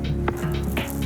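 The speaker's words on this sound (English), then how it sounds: "You can hear that sizzle straight away." Greens sizzle on a hot griddle for a chicken pad see ew stir-fry, a steady close frying hiss with a few brief bursts of crackle over a low hum.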